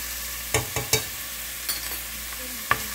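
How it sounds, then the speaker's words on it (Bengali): Garlic paste, onion paste and salt fry in a pan with a low continuous sizzle, punctuated by several sharp scraping clacks of a spoon stirring, close by. "এই তিনটা জিনিসকে একটু ভালো করে মশলাটাকে ফ্রাই করব"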